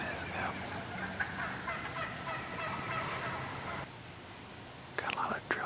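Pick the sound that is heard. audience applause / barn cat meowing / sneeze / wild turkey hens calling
wild turkey hens calling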